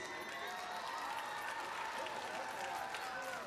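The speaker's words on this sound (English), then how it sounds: "So we give them a round of applause, please" A crowd at a high school football game gives a steady round of applause for band teachers, a distant, even wash of clapping with faint cheers mixed in.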